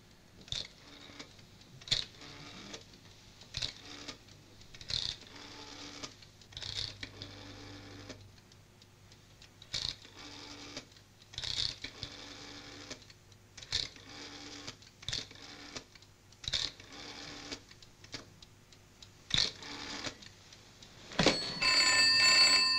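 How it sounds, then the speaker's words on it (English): A telephone being dialed in the Beatles film Help, heard as a long run of regular clicking and ratcheting ticks with brief pauses, fairly faint over quiet background. "why do we hold on John dialing the phone for so long"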